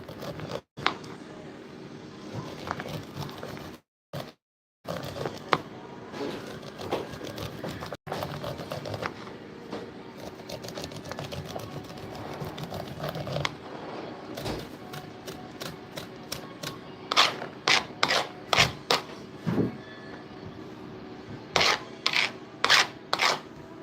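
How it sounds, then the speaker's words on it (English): Kernels being cut from ears of corn for canning, a steady rasping, scraping texture that runs continuously, broken by brief gaps and ending in a series of sharp, rhythmic strokes. "Nobody's watching me cut corn."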